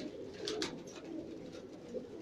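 Pigeons in a rooftop loft give soft, low cooing calls that run steadily through the short stretch, faint and close with a little outdoor background noise.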